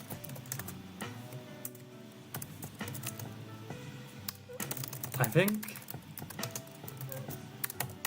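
Clattering keystrokes on a computer keyboard, fast irregular bursts of clicks during online blitz chess play, close and fairly quiet, with someone talking over them and a brief tonal chime in the middle.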